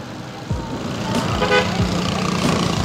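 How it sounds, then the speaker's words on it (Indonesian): A short car horn honk sounds over steady road traffic, with a vehicle rumbling past nearby. "Oh, ada yang klakson nih."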